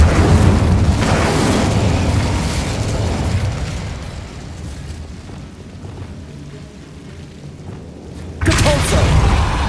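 An Incendio fire spell cast in Hogwarts Legacy bursts with a loud whooshing roar of flame that swells and fades, followed by another sharp, loud blast near the end of the clip.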